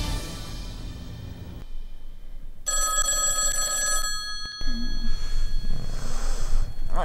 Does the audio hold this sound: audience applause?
no